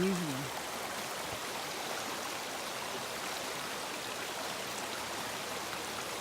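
A stream in Frontenac Provincial Park runs high and fast, a dense, continuous rushing roar heard up close. A brief voice sounds at the very start.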